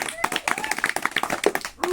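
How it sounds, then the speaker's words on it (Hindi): Rapid hand clapping during a Holi game, a brisk run of sharp claps close by, mixed with lively voices and chatter throughout. "कड़े ताली ताली ताली"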